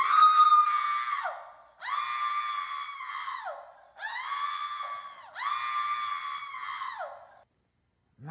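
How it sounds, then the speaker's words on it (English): A woman screams in a TV commercial, four long shrill cries one after another with short gaps, loud and with no talking around them. "Scream!"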